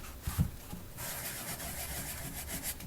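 Hand sanding of wood with Harbor Freight sandpaper of 120 or 220 grit gives a faint, soft rubbing scratch, a few brief strokes and then a steady quiet hiss.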